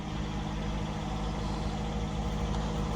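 A 2018 Jeep Compass Latitude with light damage idles just after starting, a steady close, loud low engine hum with a constant drone and no speech.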